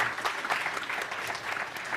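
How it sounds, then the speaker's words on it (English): An audience at a digital talent summit applauds a panel, with steady, dense clapping throughout the short stretch and no voices standing out. "A big applause to all of them."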